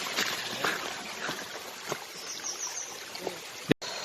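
Water flowing steadily in a mountain creek near the headwaters of the Ping River in Chiang Dao, Chiang Mai: a constant broad rushing wash with occasional faint splashes, close by, with no talking.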